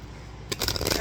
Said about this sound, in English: I shuffle these a little bit on camera so people don't think I'm bullshitting.